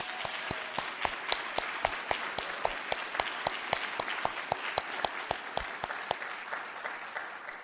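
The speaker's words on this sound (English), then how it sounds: "who deserves a big round of applause" Applause rises from an audience honoring a volunteer at a Human Light 2013 gathering, a steady roomful of clapping with a few sharp, close claps cutting through at regular intervals before it thins out.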